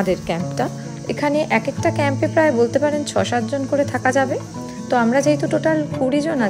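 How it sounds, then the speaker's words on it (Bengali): Crickets chirping in a forest at a campsite in Canada, a faint high continuous trill running beneath a man's close, steady talking throughout. "আর সাথে রয়েছে ঝিঝি পোকার ডাক।"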